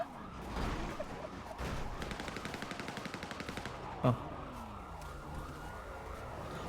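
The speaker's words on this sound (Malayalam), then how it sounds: "എടാ നീകന വെടി വെച്ചിട്ട് വണ്ടി കയറി പോയി" Gunshots ring out in a game with a rapid train of evenly spaced cracks fired in a steady burst, then a sharp single bang, while a vehicle engine hums and drives off underneath.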